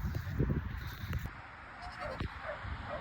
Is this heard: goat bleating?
yes